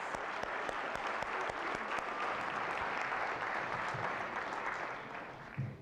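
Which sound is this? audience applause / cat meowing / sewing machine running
audience applause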